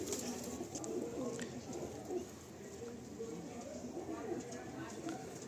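Madrasi pigeons, including a black pair, cooing softly in a low, rolling rhythm close by, with someone talking over them.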